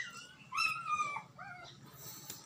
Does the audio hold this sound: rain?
no